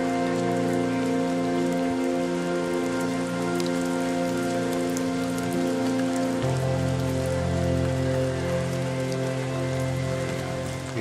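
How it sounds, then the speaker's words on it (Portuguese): Light rain falls steadily at Dakshineswar temple in India, a constant soft patter with no talk, heard under a sustained tonal drone that shifts lower partway through. "a chuva fina caía e refrescava o ambiente"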